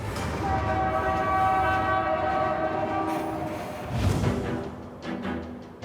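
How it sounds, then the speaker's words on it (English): A fully loaded coal train labours through the Rocky Mountains, its horn sounding long sustained tones over a rumbling engine and rolling wheels. A sharp burst of heavy rumble follows as the horn fades. "Jeff and Grant are powering their fully loaded coal train through the mountain wilderness"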